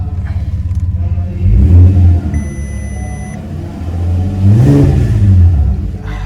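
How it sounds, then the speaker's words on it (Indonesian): A Volkswagen Touareg V6 rally raid SUV idles with a low rumble, then revs twice, each blip swelling and falling back, with a brief electronic beep in between. "Coba kita gas dikit."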